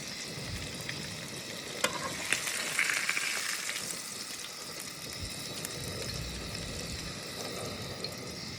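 Vadas frying in hot oil during outdoor island cooking in Mumbai, a steady bubbling sizzle with occasional stirring clinks, close and continuous with no talking.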